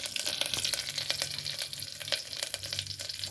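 Cumin seeds and curry leaves sizzle in hot tempering oil, giving a dense continuous crackle with quick popping bursts and some stirring, loud and close, with no voices.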